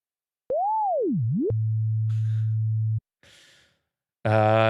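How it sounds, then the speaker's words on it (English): A pure sine wave oscillator tone sweeps up and down in pitch, then holds a steady low hum before cutting off, followed by a short breathy noise and a brighter buzzy tone. "there's little sine wave"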